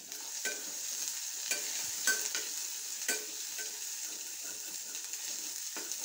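Mutton with pepper and chilli powder sautéing in a pan, a steady close frying hiss broken by repeated scrapes and clinks of a ladle stirring the meat.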